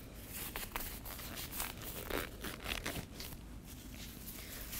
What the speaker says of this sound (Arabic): ونقوم بارتداء القفازين يا أبنائي وبناتي قبل البدء بالعمل